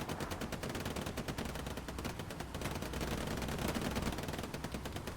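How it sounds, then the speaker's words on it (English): An anti-tank gun fires during a nighttime tournament match of a World War II video game, set amid continuous rattling machine-gun and rifle fire that keeps a dense, rapid rhythm throughout, fairly faint overall. "Yes, it is the AT gun."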